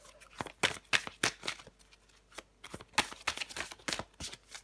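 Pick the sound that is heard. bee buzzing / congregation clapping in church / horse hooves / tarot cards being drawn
tarot cards being drawn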